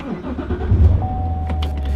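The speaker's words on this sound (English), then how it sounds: "can just like feel the whole car moving when you start the engine" A Chevrolet Corvette C7 sports car engine cranks and catches, settling into a low rumbling idle close by, with a faint whine and a few clicks over it.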